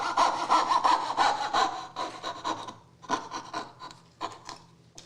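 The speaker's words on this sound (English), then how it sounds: "turn the saw, and I'm going to cut as close as I can get to that yellow, the bottom of that tape" A hand saw cuts dovetails in wood with steady rasping back-and-forth strokes, loud and close at first, then lighter and more spaced strokes toward the end, with no talking.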